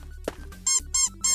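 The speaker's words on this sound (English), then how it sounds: "It's one of the squeaky things." Squeaky toy in the Gorilla Tag VR game gives three sharp, bright squeaks in a steady rhythm, loud and close over a low background hum.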